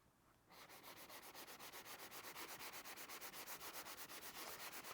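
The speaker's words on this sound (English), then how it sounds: "Let's give it a light sand." Colorant on scratched leather being lightly sanded by hand: a close, steady rhythmic rasp of quick back-and-forth strokes starts after a brief quiet moment and keeps an even pace to the end.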